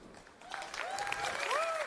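Live crowd in London cheering and applauding, heard over a satellite link at an EA press conference during E3 2016; a steady wash of distant clapping and cheering with whistles rising above it, building slightly toward the end.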